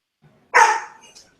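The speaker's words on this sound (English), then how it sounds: "Barking." A single dog bark, close and fairly loud, with a short tail and no talk around it.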